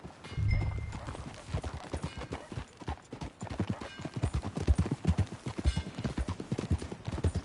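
Hooves clip-clop in a steady, quick rhythm as a horse is ridden in Red Dead Redemption 2, with a brief horse snort near the start and faint background sounds throughout.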